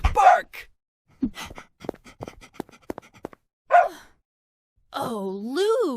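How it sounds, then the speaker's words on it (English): A pet dog gives a few sharp barks and panting breaths, separated by short silences, ending in a drawn-out moaning whine; a person's voice may be heard briefly between the sounds. "Dogs evolved to bark more than wolves."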